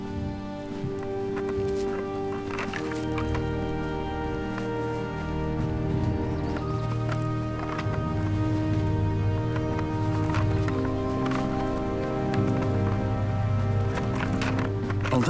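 Horses move through a Cantabrian oak forest in Salguero de Juarros, hooves clip-clopping in steady, overlapping beats that are close and clear, with occasional snorts and rustling of ground cover, and no talk over them.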